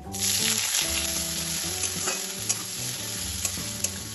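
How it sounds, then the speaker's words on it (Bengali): Chopped onion hits hot oil seasoned with five-spice tempering and dried red chillies in a pan for masoor dal, giving a loud, steady sizzle and frying hiss with a few stirring scrapes throughout. "এবার এর মধ্যে দিয়ে দেব একটা বড় মাপের পেঁয়াজ কুচি"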